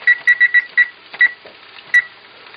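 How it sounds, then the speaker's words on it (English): A kitchen timer being set for five minutes while cooking hash browns, a quick run of five high electronic beeps, then two more spaced beeps, close and loud with no talking. "Set the timer for 5."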